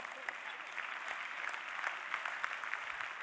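A seated audience at a French talk applauds a volunteer named Emmanuel, producing continuous, even clapping that is fairly close and steady throughout, with no voices rising above it.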